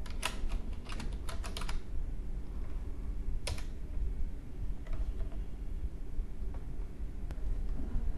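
Computer keyboard keys tapped while writing code, in bursts of quick clustered clicks followed by sparser single keystrokes, close and fairly quiet over a low steady hum, with no talking.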